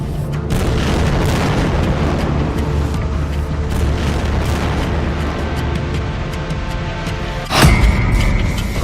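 Deep rumbling booms from Israeli air strikes, bombs blasting buildings, form a dense continuous roar with a sharper, louder burst near the end; no voices.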